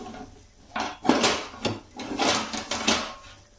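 A lid set down on a cooking pot gives a few short clattering knocks of metal and wood, close by and separated by brief pauses, with no voices.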